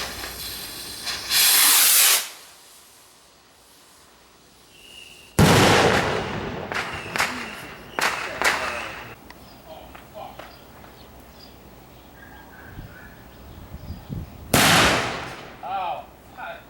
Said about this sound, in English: lighting firework